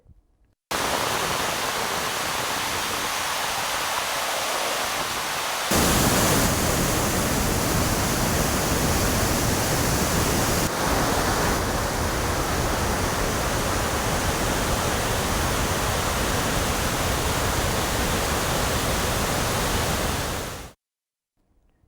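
Water released from Aliyar dam after heavy rain gushes in a loud, continuous broadband roar, close and unbroken for about twenty seconds with no voices.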